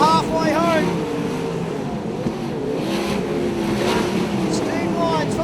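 Sprint cars racing at Archerfield Speedway in Brisbane, a pack of engines roaring and sweeping past in a continuous loud drone, with a commentator talking over it.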